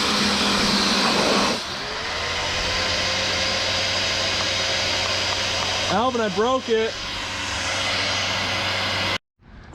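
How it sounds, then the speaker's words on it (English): Loud roar of a power washer cleaning the wheels of a Dodge Viper, steady high-pitched whine that cuts out near the end, with someone speaking over it and a brief squeaky warbling sound midway. "We're gonna give Elvin's power washer a try"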